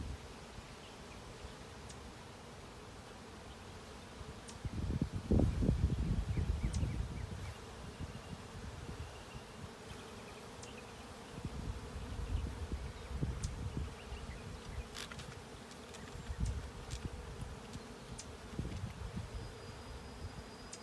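A honey bee swarm buzzing in a cedar tree outdoors, a continuous dense drone that swells louder for a few seconds and then settles into a steady hum, with light rustling and no talk.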